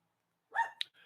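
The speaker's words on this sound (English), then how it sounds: "It's a noisy dachshund barking at night squirrels." A single short, sharp bark from a dachshund at night, fairly faint, followed by a soft yip in an otherwise quiet setting.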